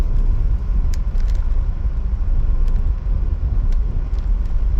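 A car drives over a washboarded dirt road at White Sands National Park, producing a loud, steady low rumble and road noise with faint rattles throughout, with no talking.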